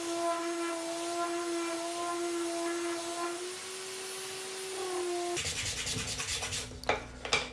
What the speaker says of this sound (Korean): 거친 사포로 약간의 단차들을 잡아줍니다.